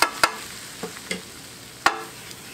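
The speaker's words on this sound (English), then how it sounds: "I've got my butter melted, and I'm going to add my 1/4 cup of flour." Flour going into melted butter for a roux for creamed spinach, with sharp utensil taps and scrapes against the pan over a light sizzle, close up.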